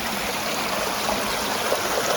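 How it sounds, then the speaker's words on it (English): Water trickles steadily down a small rock waterfall feature outdoors, a soft continuous wash of splashing and burbling at moderate distance, with no voices. "This thing, look at this thing, it comes down. It's like a little waterfall there."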